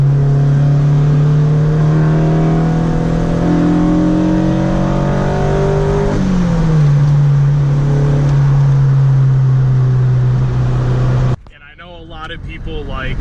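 A Honda Civic FG2 coupe engine revs hard as VTEC engages, a loud, steady rising drone with strong harmonics that climbs in pitch, dips briefly, then holds high for about eleven seconds before cutting off abruptly into quieter road noise.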